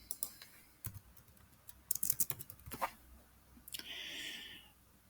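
Keystrokes on a computer keyboard as a search is typed into Windows, coming in short irregular bursts of soft clicks close by, with brief pauses between and a steadier hiss near the end.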